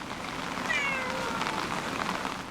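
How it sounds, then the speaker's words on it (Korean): A street cat meows in a university dormitory courtyard in Jeonju during an evening rain shower, giving one brief, fairly faint cry against the steady hiss of rain. "이런 날엔 거리의 자동차 소리와 길고양이 울음소리가 정막을 깨웁니다."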